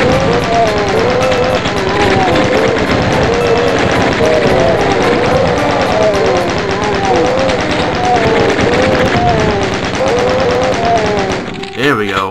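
Chaingunner enemies in Doom's Alien Vendetta hammering away with chainguns, a loud, dense stream of rapid rattling gunfire that continues for almost the whole stretch, with game music beneath and a voice speaking over it.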